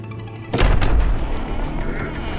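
Sniper fire in the video game Gears of War 5 bursts in as one sharp, loud shot with a heavy low boom at about half a second. Its echo then rumbles away over a steady noisy background.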